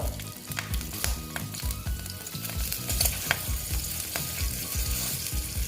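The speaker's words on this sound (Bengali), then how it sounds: "দেখো আমি ফোড়নে দিয়ে দিচ্ছি কালো জিরে তারপরে দিয়ে দিচ্ছি দেখো কাঁচা লঙ্কা দুটো" Nigella seeds and two green chillies sizzle and crackle in hot oil in a pan, a continuous close frying hiss with sharp pops and stirring scrapes.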